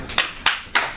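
Three sharp hand claps spaced about a quarter second apart, close and fairly loud, with no talking over them.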